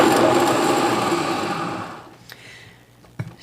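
A blender whirls cashews with hot water in a steady high-pitched motor whine that runs loud, then fades as the motor winds down, leaving a few faint clicks and knocks near the end.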